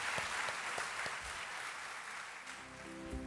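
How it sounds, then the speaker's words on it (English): An audience at a staged mock biblical trial applauds to thank the program's participants. The applause is steady and somewhat distant, with a few sharper claps and a brief low tone near the end. "Please join me in another round of applause to thank everyone for their commitment to this program."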